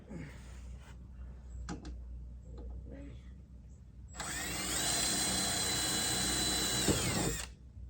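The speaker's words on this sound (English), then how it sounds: "So I just pre-drilled a hole" A power drill pre-drills a hole for wood screws in a canoe mount, whirring loudly and steadily for about three seconds before stopping, after a few quieter clicks and handling knocks.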